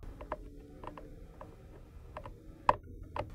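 A T20 Torx driver backs screws out of the air box sensor on a 2015-17 Ford Mustang GT 5.0L, giving faint, sparse ticks and small metallic clicks close by, with one sharper click near the end.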